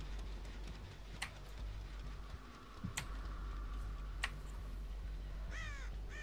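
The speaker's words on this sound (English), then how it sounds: "Hey, birds." Crows in the Dead by Daylight video game give sharp, separate caws spread over several seconds above a steady low ambient hum, with a flurry of quick calls near the end.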